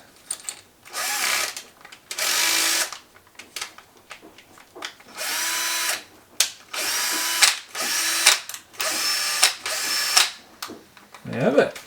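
A Makita DF330D 10.8V cordless drill with a bit fitted runs in a series of loud, close whirring bursts of a second or so each, separated by brief stops and clicks.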